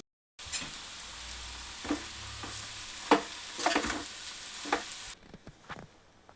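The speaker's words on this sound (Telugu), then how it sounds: "ఇలా కలిపేసుకోవాలండి రైస్ వేసుకున్నాక" Leftover rice being stir-fried with vegetables in a hot pan, a steady sizzle broken by scraping stirs at irregular intervals, close and fairly loud with no voices.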